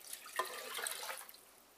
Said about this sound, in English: 2 cups of hot water.